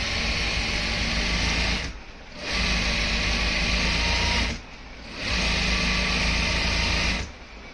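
A sewing machine stitches a pant pocket in three steady runs of a couple of seconds each, separated by short pauses. The motor's whir is loud and close, with no talk.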